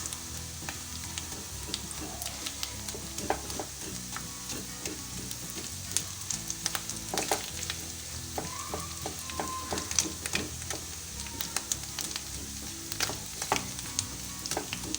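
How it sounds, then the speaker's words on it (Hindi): Potatoes fry steadily in a pan over a medium-high flame, a dense continuous sizzle with scattered crackles and pops, close and even throughout with no talking. "फ्लेम को हमें लो नहीं करना है, हमें मीडियम टू हाई फ्लेम पे ही फ्राई करना है।"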